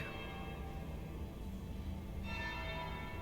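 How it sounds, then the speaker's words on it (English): A bell tolling inside the Dragon Age: Inquisition game world, steady ringing tones sustained throughout, with a fresh strike about two-thirds of the way through, heard alone without talk. "That's the bell."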